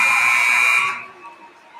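A loud electronic buzzer sounds at the end of a high school girls basketball game, holding steady for about a second before cutting off and fading into faint arena noise.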